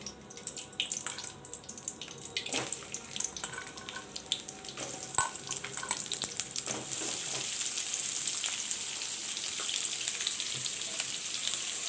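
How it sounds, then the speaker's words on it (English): Onions and slit green chilies fry in hot oil in a pan, a steady close sizzle that grows denser and louder toward the end, with occasional clinks and stirring. "fry the onions and the chilies."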